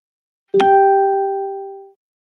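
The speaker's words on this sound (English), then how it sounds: "Oh, that was my phone." A phone notification plays once through a live sound card as a clear, bright chime that rings and then fades out over about a second and a half.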